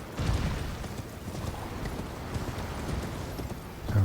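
A horse gallops in the video game Elden Ring, a steady run of hoofbeats with low thuds, fairly faint and continuous, with no voices.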